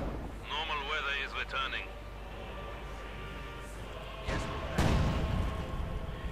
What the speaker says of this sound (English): we've got the field gun there bombarding